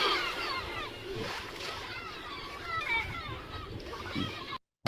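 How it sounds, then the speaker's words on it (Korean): Seagull cries from an AI-generated Kling seaside video, several short high calls over a bed of splashing water and surf, with faint voice-like sounds mixed in. "아까보다 소리가 갈매기 소리 커졌고"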